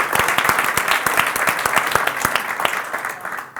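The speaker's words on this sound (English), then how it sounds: "Round of applause." A live audience applauds at an evening business event welcoming a guest speaker, dense steady clapping close and loud throughout, tapering slightly near the end.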